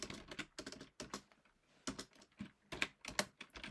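Fingers tap on a computer keyboard at close range in quick, uneven bursts of clicky keystrokes with short pauses between runs, and no one speaks.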